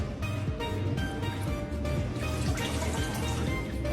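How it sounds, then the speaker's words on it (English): Tap water runs steadily over fresh farmer's-market produce in a sink, with a continuous splashing and trickling wash and occasional drips and clinks, close and fairly loud. "I'm going to rinse it first here, because it just came from the farmer's market"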